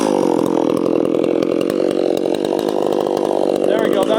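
Chainsaw cutting into a maple during tree felling, loud and close, with the engine held at a steady high rev that varies only slightly in pitch throughout.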